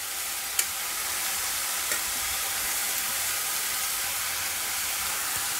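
Tomatoes are added to a pan with a little oil and sautéed while making a chapati snack, giving a steady loud sizzle and hiss with a few faint stirring clinks, close by and without talk.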